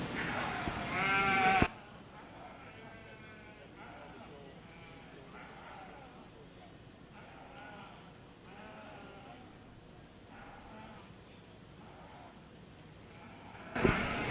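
Sheep and goats bleat repeatedly in a barn at a 4-H sheep and goat show at the Dawson County Fair, with several calls of moderate loudness over a steady hum of background voices.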